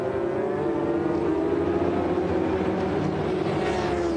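A 1996 Honda RC45 racing motorcycle at the Bol d'Or endurance race, a steady loud engine drone held throughout with a sustained high-revving tone and no voices.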